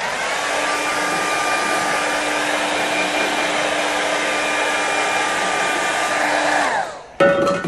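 A hair dryer blows steadily on a watercolour painting of snowy buildings, a loud, close, continuous whooshing hum that winds down near the end, followed by a brief clatter.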